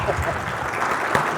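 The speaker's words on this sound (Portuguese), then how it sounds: "uma salva de palmas para o nosso vice-presidente que está aprendendo tcheco" Applause from an indoor audience at a Czech culture event, a dense steady patter of clapping filling the short moment at fairly close range.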